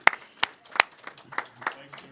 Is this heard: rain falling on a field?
no